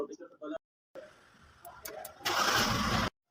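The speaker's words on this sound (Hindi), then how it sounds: "Now we will start the car." A Changan Alsvin car is started with a push start button, the engine cranking and catching into a loud, steady run for under a second before cutting off; short bursts of talk come before it.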